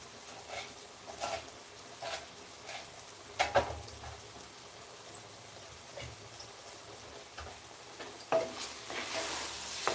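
Bottle gourd curry with coriander and cumin-fenugreek powder simmering in a clay pot, a faint continuous bubbling hiss broken by soft intermittent stirring knocks and scrapes.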